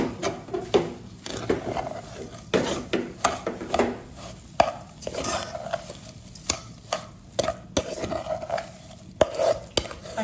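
Brown sugar being stirred into steamed nenthrapazham banana in a pan, a close run of scraping and tapping strokes with faint sizzling underneath, steady and uneven in rhythm with no talking.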